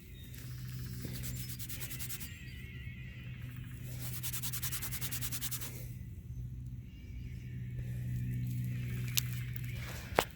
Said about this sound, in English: Let me rub it on my pants for a second.